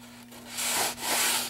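Sandpaper rubs along a foam edge on a model aircraft wing, giving two close, soft, breathy strokes that swell and fade, over a faint steady hum.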